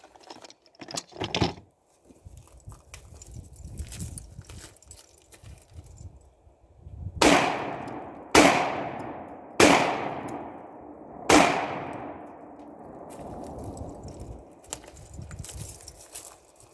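A Hatfield SAS 12 gauge shotgun made by UTAS fires Winchester AA shells, with four loud, sharp blasts at uneven intervals of about one to two seconds. Each blast is followed by a ringing decay, with quieter handling noise between the shots.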